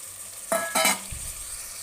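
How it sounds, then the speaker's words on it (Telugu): Raw prawns go into a pan of frying onions and green chillies, setting off two sharp bursts of sizzle and clatter, then a quieter ongoing hiss. "ఇందులోనే రొయ్యలు వేస్తున్నాను పచ్చి రొయ్యలు"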